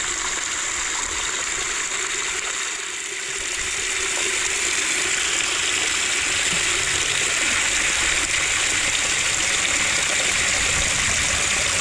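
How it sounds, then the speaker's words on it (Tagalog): Water poured into a container outdoors makes a steady, loud rushing flow that continues without break, with no talk over it. "Lagyan natin ng tubig today."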